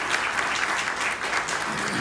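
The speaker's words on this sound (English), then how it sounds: "Please, if you would, a round of applause to Ray Jones Avery." A brief, full round of audience clapping at a Delaware Saves event in the Christina Cultural Arts Center in Wilmington, steady and fairly close, with a hint of voices mixed in.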